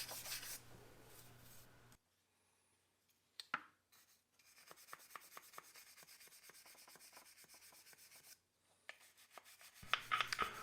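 A brass brush scrubbing rust off the steel of an H&R 088 shotgun, quiet rhythmic rasping strokes in bursts separated by short pauses, close and faint.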